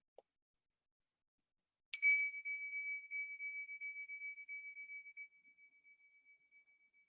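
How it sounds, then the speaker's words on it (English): A meditation bell chime in a gentle therapeutic yoga session, struck once and left to ring, its clear bright tone slowly fading over several seconds in near silence. "the bell, this chime"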